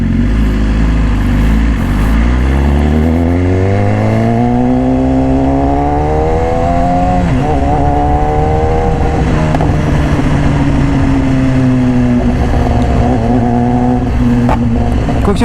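A red 2018 BMW S1000RR sport motorcycle fitted with an Austin Racing exhaust revs hard close up, its loud engine note climbing through gears in long rising pulls, dropping briefly, then surging again, with no talk.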